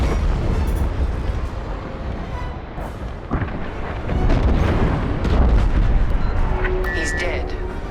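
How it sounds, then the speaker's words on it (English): A frigate explodes in Star Wars: Squadrons, a heavy rumbling blast with deep booms swelling over the second half, mixed with game sounds and a faint beeping tone near the end. "The frigate is about to explode!"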